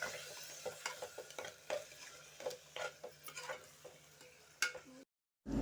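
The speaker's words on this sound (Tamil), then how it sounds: "இது நல்லா உடனே நல்லா கிளறி விட்டுக்கோங்க." A spoon stirs tomato rice mixture with curd in a pan, scraping and clinking in irregular strokes against the metal, with a soft sizzle beneath, fairly quiet and close.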